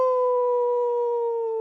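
A man imitates a wolf howl with his voice, one steady, loud, sustained tonal howl held for under two seconds, sounding near and alone.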